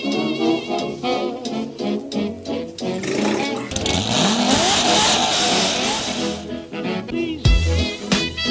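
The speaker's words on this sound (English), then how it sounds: "we're gonna go ride the four-wheeler" A four-wheeler ATV engine revs up and accelerates nearby, rising in pitch and loudness before settling, with a short thump near the end and a few voices at the start.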